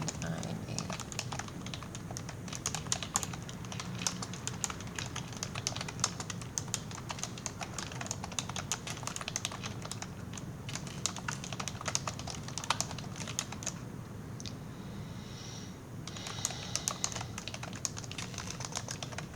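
Steady typing on a computer keyboard while an introduction is written for an academic portfolio, with dense, continuous key clicks over a low background hum throughout.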